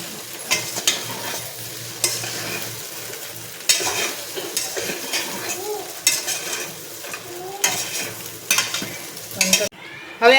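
Luni bhaji muthiya dough is worked by hand with a generous amount of oil, making close, wet squelching and rubbing strokes in irregular bursts, with a sharp knock right at the end.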